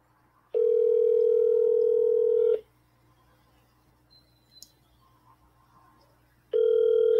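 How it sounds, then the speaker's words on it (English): An outgoing telephone call rings with loud, steady tones about two seconds long, separated by a pause of near silence with faint room noise, then the ringback tone starts again. "We're trying to call Michael"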